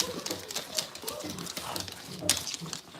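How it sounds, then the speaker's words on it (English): Dog nails click and patter on a hard floor in a quick, irregular tapping close by, with someone talking over them. "Why are your guys' nails tap dancing so much?"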